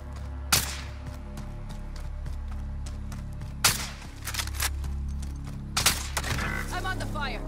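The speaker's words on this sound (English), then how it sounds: "There's gunfire coming from deep way over here by salt mine." Gunfire in an online battle-royale video game crackles in sharp bursts, several loud single shots and short volleys spaced across the stretch over a steady low background hum, with faint game voice audio.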